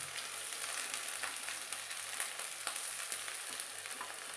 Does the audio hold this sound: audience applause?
no